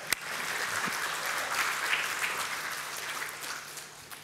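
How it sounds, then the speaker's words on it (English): An audience at a tech conference talk claps steadily and fairly loudly, a dense continuous applause heard alone without speech, holding level for the whole stretch. "Applause for Clojure!"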